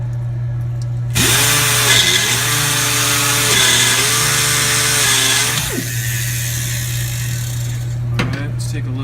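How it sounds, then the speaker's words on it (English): A valve seat grinder runs on an engine valve seat, starting abruptly into a loud, steady whine with a low constant hum beneath, wavering slightly in pitch as it grinds, then cutting off after a few seconds. "we'll go ahead and just run it and then grind our surface"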